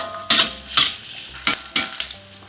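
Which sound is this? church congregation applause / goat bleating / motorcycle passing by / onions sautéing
onions sautéing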